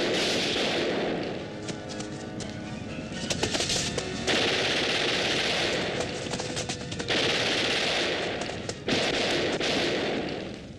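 Gunfire in a Thai action film, long loud rattling bursts of automatic weapons with brief pauses and sharp single shots, a continuous close battle barrage.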